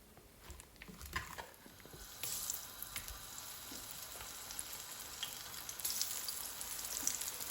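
Zucchini sizzles and crackles in hot olive or sunflower oil over high heat, with steady frying that swells louder partway through and occasional pops and clinks.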